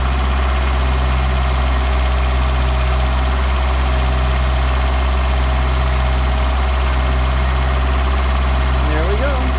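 A Mercedes 190SL engine fitted with Solex carburetors idles while warming up, a steady, close, low-pitched hum with an even throb. A brief voice shows near the end.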